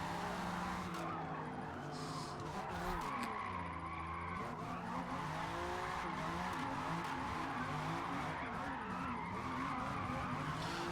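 Sustained tire skidding from a car drifting sideways in a racing video game, a continuous squealing screech with engine drone underneath, loud and steady throughout with faint talk mixed in.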